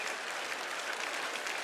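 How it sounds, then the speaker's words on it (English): A brief burst of audience applause at a conference, dense and steady throughout, with no voices. "getting applause on that."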